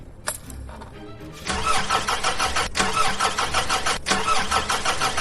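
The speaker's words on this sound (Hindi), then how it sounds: "ड्राइविंग सीट पर बैठते हुए उन्होंने कार को स्टार्ट करने की कोशिश की।" A car engine is cranked from the driver's seat. A brief starter whir comes first, then the engine catches into a loud, steady mid-pitched running roar with short dips, close and alone.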